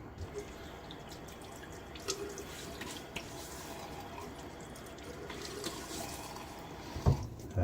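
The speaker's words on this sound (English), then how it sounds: "get my face wet" Cool hard water runs from a bathroom tap as a face is wet before a shave, a steady close splash and trickle with a few small knocks and drips, no talking.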